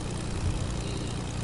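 A propeller airplane flying in the video game Fortnite, giving a steady, fairly loud engine drone with no break across the short stretch.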